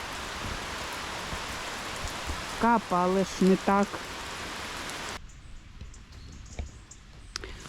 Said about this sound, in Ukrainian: Дощ начебто трохи вщух.